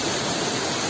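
The Kodige waterfall on the Nethravathi River in Karnataka gives off a continuous broad rushing roar, steady and even with no voices over it.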